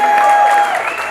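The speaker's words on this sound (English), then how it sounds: "Give Nick a big round of applause" Brief burst of applause from an audience at a thank-you speech, loud and steady with a faint crowd murmur and a steady tone underneath.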